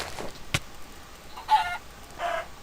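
Minecraft chickens cluck in a few short, separate bursts, fairly faint and spaced apart over quiet game ambience.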